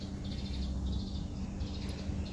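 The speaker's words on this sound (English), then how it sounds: "birds twitching and singing and communicating" Early-morning birds chirp and sing near rice fields, faint, high twittering phrases repeating over a low, steady background rumble, with no talking.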